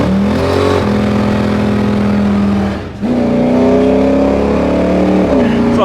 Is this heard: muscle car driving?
yes